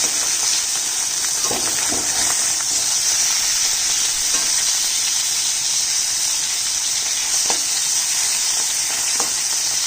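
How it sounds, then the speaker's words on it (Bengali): Fish sizzles steadily in hot oil, a continuous close crackling hiss with occasional louder pops and spatters. "ছোটো মাছগুলো ভেজে নিই"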